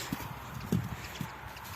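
Horse hooves clip-clop on hard ground in a loose, uneven rhythm, a handful of moderately loud thuds over a low background murmur.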